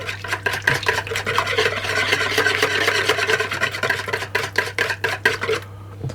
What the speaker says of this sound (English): the whole egg and the egg yolk, and I'll whisk those around